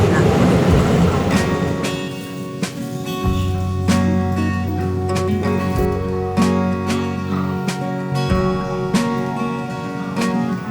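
A train pulls into Ruifang Station in Taiwan with a steady mechanical rumble, a droning horn-like tone and rhythmic clanks and clicks of wheels over rail joints, all loud and close with no talk.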